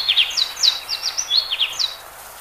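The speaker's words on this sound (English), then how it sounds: "And birdsongs, for example." Birdsong made of quick, high, bright chirps and descending trills, repeated in short bursts over about two seconds, moderately close and heard alone against faint background noise.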